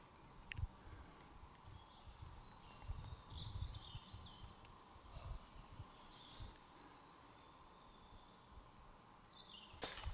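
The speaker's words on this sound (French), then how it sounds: "T'entends là les oiseaux qui chantent?" Birds singing in Fontainebleau forest, scattered faint chirps and warbles drifting from a distance over quiet woodland ambience, with a few soft rustles and footsteps nearby.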